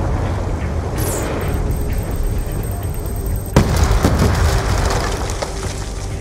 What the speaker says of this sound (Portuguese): Explode. Para trás.